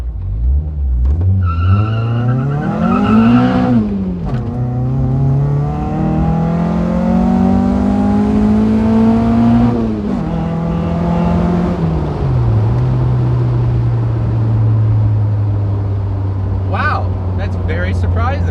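A K-swapped Honda CR-V AWD launches hard on a road, its engine revving high and loud with rising and falling pitch through gear changes, then settling to a steady drone, with tire noise and a brief voice near the end.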